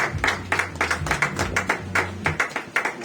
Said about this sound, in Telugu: అందరూ సంతోషించి చప్పట్లు కూడా ఉండాలి